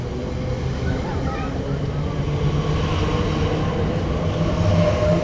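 Rumbling interior of a moving Elizabeth line train in London, a steady low drone with faint squeals and murmured voices in the background.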